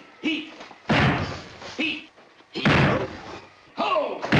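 A head rams into a door in slapstick comedy, giving several heavy, close thumps and slams spaced a second or so apart, with voices talking in between.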